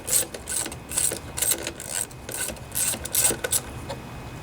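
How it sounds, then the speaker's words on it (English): The air filter cover comes off a Briggs and Stratton lawnmower engine, taken off with a 5/16 wrench or a screwdriver, giving a series of short, close, rhythmic ratcheting and scraping clicks with no talk. "Take off the air filter cover. It's a 5/16, or you can use a screwdriver."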